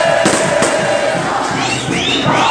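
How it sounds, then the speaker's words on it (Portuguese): Palmeiras supporters celebrate the club's tenth championship at Palestra Itália with a dense, loud roar of crowd noise that holds steady throughout, including bursts of shouting. "Festa da torcida do Palmeiras com o Deca campeonato"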